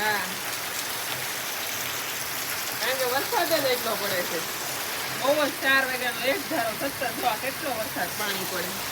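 Very heavy rain pours down in a dense, constant roar, drenching an area around a cow shelter, with people talking intermittently under the downpour.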